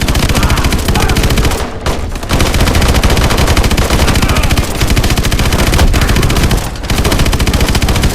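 Main gun firing in the video game Call of Duty: Advanced Warfare, a loud, dense rapid-fire burst that stops briefly twice before resuming, with no talk.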